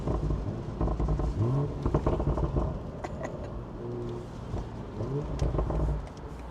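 A BMW 840i (G14) with catback exhaust, 200-cell downpipe and Stage 2 tune revs up in sport mode with a throaty exhaust note, pulling strongly for several seconds, then easing off before building again.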